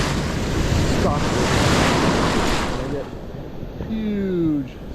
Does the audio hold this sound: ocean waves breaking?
yes